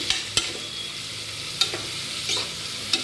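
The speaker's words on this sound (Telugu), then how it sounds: "అలాగే ఉల్లిపాయలు కూడా వేస్తున్నాను ఇవన్నీ దోరగా వేయించుకోవాలి" Onions with curry leaves and green chillies frying in a pan, a steady close sizzle punctuated by several sharp spatula scrapes and taps.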